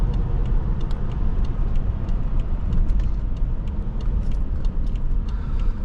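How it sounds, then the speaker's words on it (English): A 2013 BMW 750Li xDrive with a V8 engine drives along, giving a steady, loud low rumble of engine and road noise throughout, with faint clicks above it. "The sound of the V8 is like melody."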